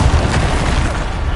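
Bombarda explosion spell in the Hogwarts Legacy video game, a loud, rumbling boom with a dense low-end roar sustained through the moment amid combat effects.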